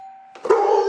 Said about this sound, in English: Now I'm going to get Richard to ring the doorbell.